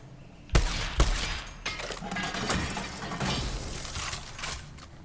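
Sniper rifle fire in Borderlands 3 game combat: a couple of sharp, loud shots near the start followed by a clattering run of rapid bursts and mechanical rattles, up close and dense.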